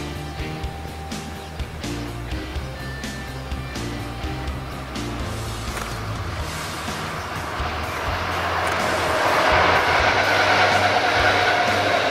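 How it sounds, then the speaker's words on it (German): A MaK G1206 diesel-hydraulic locomotive passes on the line between Dresden and Leipzig, a low diesel rumble with rail clatter that grows louder and brighter toward the end. "Lokomotive MAK G1206 ist eine dieselhydraulische Lokomotive, die von der Maschinenbau Kiel MAK entwickelt wurde."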